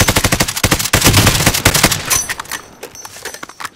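Rapid automatic gunfire in the shooter game Warzone crackles in loud, close bursts, then trails off into scattered fainter shots and echoes.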